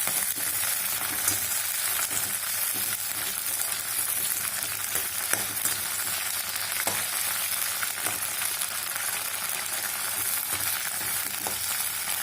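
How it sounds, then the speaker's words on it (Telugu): Green chillies frying in a pan for a spicy ridge gourd chutney, giving a steady, dense sizzle with faint crackles and occasional stirring scrapes throughout, no voices. "పచ్చిమిర్చి కొంచెం వేగనిద్దాం."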